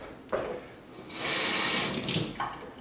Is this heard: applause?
no